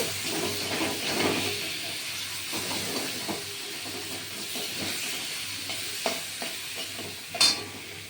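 Mushroom curry with tomato sauce hisses and sizzles as it is sautéed, with a spatula stirring and scraping through it and a couple of louder knocks toward the end.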